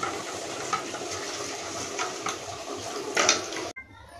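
Prawn malai curry ingredients are mixed by hand in a bowl, giving a steady wet squelching and stirring texture with occasional louder squishes. The mixing runs continuously, then stops abruptly near the end.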